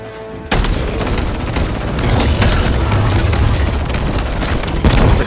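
A grenade goes off in the first-person shooter Halo Infinite: a sudden loud boom after a brief quiet moment, followed by a sustained, roaring rumble of battle noise that stays loud to the end.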